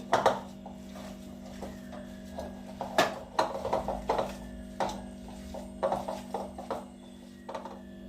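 A spoon stirs curry leaves and coriander into a dish in a pan, giving irregular quiet clinks and scrapes against the metal over a steady low hum.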